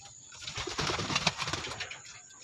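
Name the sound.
racing pigeons cooing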